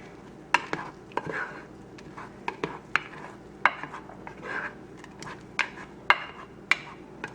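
A spoon stirs oats and other ingredients into boiling milk in a pot, knocking and clinking sharply against the sides in an irregular rhythm over a soft bubbling background.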